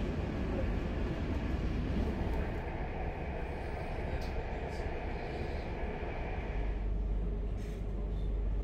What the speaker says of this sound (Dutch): Met deze trein gaan we naar Amsterdam.